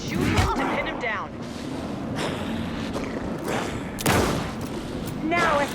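Gunfire in the video game Alan Wake 2, scattered shots and a sharp burst amid tense game ambience, with voices shouting over the action.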